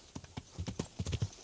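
Horse hooves clip-clop at a quick, slightly irregular gait in the medieval video game Kingdom Come: Deliverance, a close, brief run of distinct thuds.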